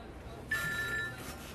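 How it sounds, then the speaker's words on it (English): A telephone rings faintly during a women's rugby sevens broadcast between Curaçao and Turks & Caicos, a single steady electronic trill lasting about half a second over quiet background hum. "We've got a phone call coming in."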